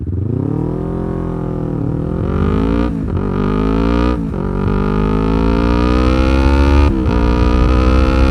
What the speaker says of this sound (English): The revs kind of change when you put it in first.